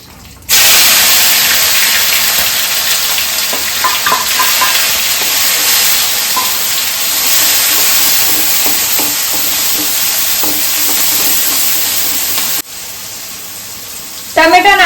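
Steady, loud sizzling of tomatoes, chillies, cumin and asafoetida frying in a pan, a broad hiss running almost the whole time with faint scraping stirs underneath.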